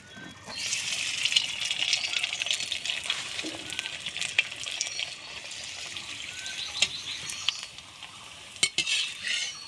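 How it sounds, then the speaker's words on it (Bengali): Raw mango papad frying in hot oil in a village kitchen, a steady close bubbling sizzle with occasional clinks and scrapes of a utensil, no talking. "তেলটা সুন্দর করে গরম করে নিয়েছি, এবার পাঁপড়গুলো ভেজে নেব"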